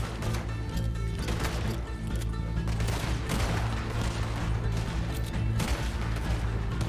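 Dense, constant bursts of gunfire and explosions from a Red Dead Redemption 2 bank robbery shootout, filling the whole stretch without pause.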